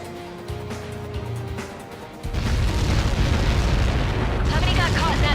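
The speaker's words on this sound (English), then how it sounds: "How many got caught in that explosion?" Missile impact explosion in the video game Ace Combat 7: a sudden deep roaring blast that swells and rumbles on loudly, following a low engine drone and radio chatter.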